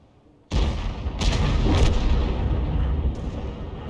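A Conqueror Gun Carriage artillery piece in a tank video game fires with a sudden loud boom, followed by a long rolling rumble and a few further distant blasts through the rest of the moment, with no talking.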